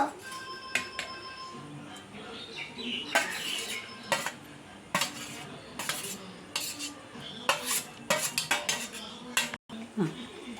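Grated coconut is mixed into an egg fry in a pan, giving repeated sharp clinks and scrapes of a utensil against metal with faint background sizzle, close and irregular.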